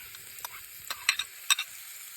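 Tomato pieces fry and get stirred in a pan: a soft, steady sizzle broken by several sharp scraping clinks of a utensil against the pan, close by and with no talking.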